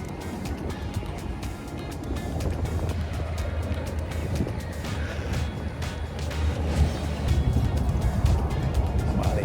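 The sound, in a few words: airboat ride starting in the Florida Everglades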